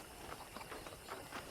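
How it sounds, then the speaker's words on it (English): Horse hooves clip-clop in a quick, even rhythm in the video game Red Dead Redemption, steady and moderately close, with no voices. "let's see if you can still ride a horse."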